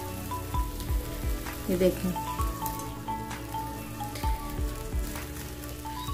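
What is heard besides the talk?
Adana kebabs frying in a pan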